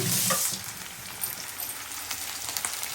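Mutton liver fries in a pan with a bright, continuous sizzle and crackle, loud at first and then settling into steady spattering with occasional stirring scrapes, close up and without talk.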